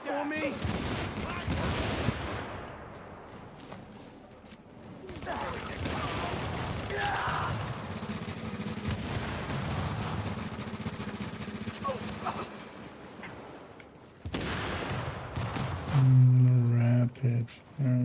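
Rapid gunfire in The Division video game, long bursts of automatic shooting with brief lulls and a heavy final volley, a voice speaking intermittently beneath the shots.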